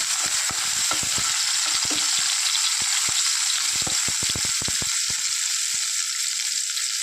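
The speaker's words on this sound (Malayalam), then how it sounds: "ഇതിലേക്ക് ഒരു കാൽ ടീസ്പൂൺ ഉപ്പ് ചേർക്കുന്നുണ്ട് അതും കൂടെ ചേർത്ത് കൊടുത്ത് ഇതൊന്ന് നന്നായിട്ട് വഴറ്റി എടുക്കുക" Onions sautéing with a pinch of salt in a pan, a loud, steady hiss of frying under many quick scraping and tapping stirs, close up with no talking.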